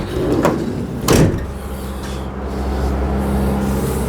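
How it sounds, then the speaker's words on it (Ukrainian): A 2020 Renault Kangoo van's sliding door rumbles along its track in two heavy strokes, then its 1.5 dCi diesel engine idles with a steady low hum. "Одна здвижна двері"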